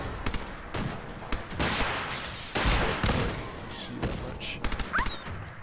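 Fallout 4 gunfire, including a double-barrel gun, sounds as a quick run of sharp game shots and thumps at moderate level, mixed with intermittent talk.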